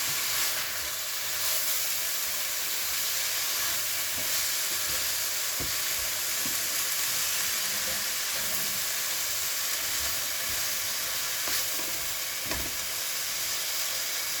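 Mung bean sprouts frying in a pan for ginisang togue, giving a steady broadband sizzle and hiss throughout with occasional stirring clatter, no voices.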